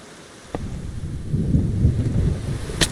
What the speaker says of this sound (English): it doesn't look like the storm is too intense right now